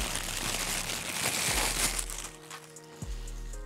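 Plastic packaging bags rustle and crinkle up close during an unboxing of a PS5 Spider-Man 2 collector's edition, a dense crackling that thins out toward the end.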